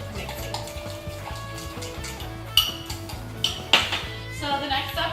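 Light clinks and scraping of a utensil stirring muffin batter in a mug, with a few sharper taps against the side, over a steady low background hum.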